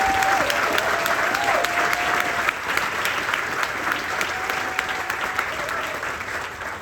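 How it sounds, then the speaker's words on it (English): A crowd applauds a brass band at a campus grand opening, sustained dense clapping from many hands that holds steady, with a faint tone and some voices under it. "Let's give a huge round of applause to the Red and Black Brass Band who entertained us today."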